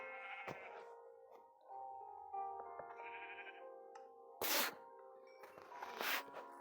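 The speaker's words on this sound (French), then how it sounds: "Un mouton noir." A black sheep in the Minecraft video game bleats several times in short bursts, with game ambience and other blocky sounds around it; the bleats stand out clearly at moderate volume.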